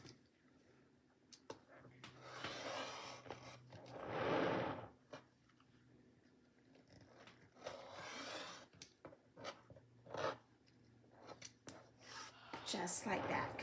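Rotary cutter or blade rasping along an acrylic ruler as the two sides of a Winter Star quilt block are trimmed with a Creative Grids Kitty Cornered Ruler, a few short scraping bursts at close range with quiet pauses and light handling noises between.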